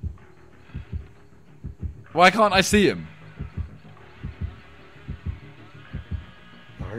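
A video game's heartbeat warning pulses in a steady rhythmic thump, soft and regular, while a voice briefly speaks over it in the middle.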